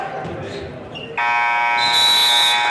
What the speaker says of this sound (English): Can't beat the buzzer.